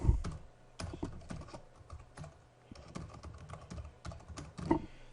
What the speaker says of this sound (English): Then type in a reason for the patient leaving the study